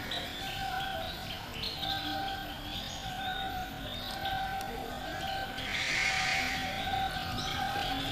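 Birds calling in the bird area of Ragunan Zoo, many overlapping chirps and whistles forming a continuous outdoor chorus with steady ambient noise, moderately distant.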